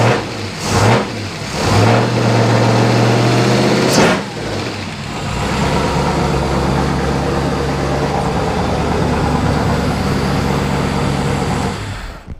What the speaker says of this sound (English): So that was probably really loud on the audio, but car's running phenomenal.